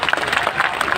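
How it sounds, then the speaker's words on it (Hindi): Crowd applause at a BJP political event welcoming the chief minister, a dense, lively burst of many hands clapping close and loud, with voices mixed into the noise. "एक बार जोरदार ताली बजाओ"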